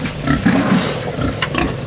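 A farm pig grunts and snorts in a quick series of short, close, low bursts over a noisy background, with no talking.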